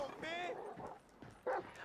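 In the video game Grand Theft Auto V, a dog gives two sharp barks, one early and one near the end, while someone talks over the game sounds.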